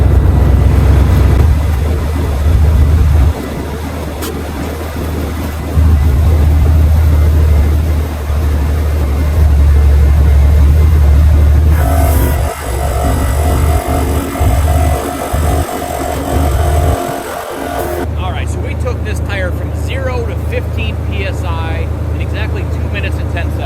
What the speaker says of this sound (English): let's go ahead and get this compressor running and see how long it takes to air up one of these 40s